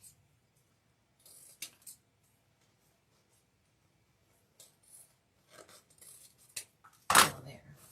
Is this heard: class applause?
no